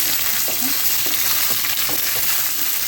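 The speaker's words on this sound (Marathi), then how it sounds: "लगेच हे मी टाकून घेते याच्यात छान परतवून घेते" Ingredients with pav bhaji masala sautéed and stirred in a pan, a steady sizzle broken by several spoon scrapes at an irregular pace, close and clear with no talking.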